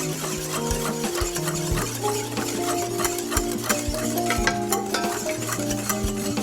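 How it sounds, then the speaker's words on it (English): A whisk stirs milk into a semolina mixture in a pot for a Greek milk pudding, making steady close scraping and swishing with light metallic clinks, while a music bed with sustained tones plays throughout. "you can do it 1 ladle at a time, like this, and keep on whisking it"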